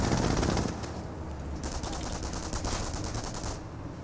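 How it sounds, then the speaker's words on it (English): An MG42 machine gun in Company of Heroes fires rapid bursts, a dense rattling chatter with a loud opening and continued fire at mid distance. "Got the other MG42 setting on up as well."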